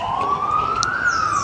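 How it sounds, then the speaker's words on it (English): An ambulance siren sounds in a town, a loud, close wailing tone that rises steadily in pitch without pause and without any talk over it. "you will not miss those sirens from the ambulance"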